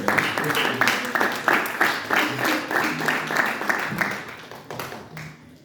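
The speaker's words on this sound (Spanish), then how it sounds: "Tengo que darle un aplauso al Señor." A church congregation claps along in praise to the Lord, a steady dense patter of many hands carrying on for several seconds and fading near the end, with voices mixed into the crowd noise.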